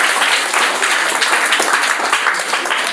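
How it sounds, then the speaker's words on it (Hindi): A school audience claps steadily and densely throughout a class 8 and 9 result celebration at a residential school in Jharkhand, a sustained roomful of applause with no pause. "ताली मारिए, ताली मारिए,"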